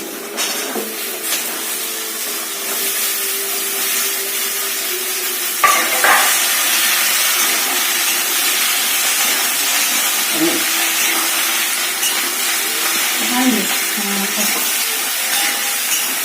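Ridge gourd and potato go into a hot pan over already-fried onions, giving a loud, continuous hiss and sizzle with occasional stirring scrapes throughout.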